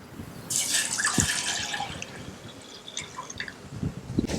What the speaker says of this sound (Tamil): அதை இப்போ நம்ம வந்து பாலை ஊற்றிக்கலாம்